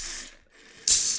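Cans of ice-cold Guinness cracked open and spraying: a short close hiss, a brief lull, then a louder, sharper fizzing burst, with no talking.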